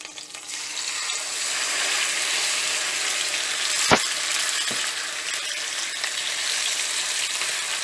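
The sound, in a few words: marinated beef pieces frying in hot oil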